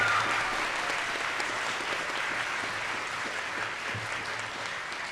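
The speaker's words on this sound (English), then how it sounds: "let's have a final round of applause" Sustained audience applause fills a graduation awards ceremony hall, a dense, even wash of clapping from a large crowd, moderately distant, lasting the whole stretch without talk.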